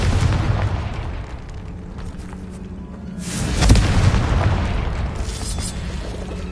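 A Confringo fire spell explodes in the Hogwarts Legacy video game, a deep rumbling boom swelling midway over dense, loud game noise.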